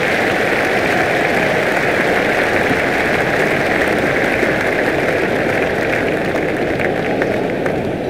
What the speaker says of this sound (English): There's a lively crowd inside the stadium, and that will create an excellent atmosphere for this game.